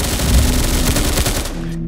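Continuous full-auto fire from the MDR rifle in a Chicago Remastered video game, loud and close, a dense rattle that cuts off near the end, with no talk.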